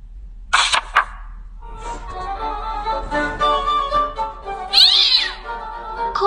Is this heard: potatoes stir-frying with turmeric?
no